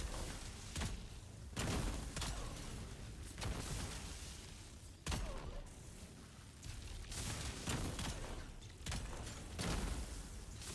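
Gunshots during a boss fight in Dune Awakening with a Seethe headshot build, sounding as loud bursts spaced a second or two apart over a dense, continuous roar of game noise.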